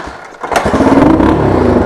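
A Honda XLX 250R motorcycle engine starts after a brief scrape, catching around the half-second mark and settling into a loud, steady idle close by.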